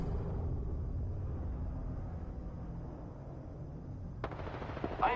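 Gunfire rattles in an online shooter video game, a rapid automatic burst that fades off, followed by a sharper crack near the end, all fairly quiet and with no voices.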